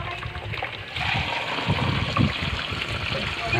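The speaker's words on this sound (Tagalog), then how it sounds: "Lagyan natin kaunting tubig dito." A small splash of water trickles and gushes into a pot of cooking duck, a soft steady liquid pour close by with faint kitchen background.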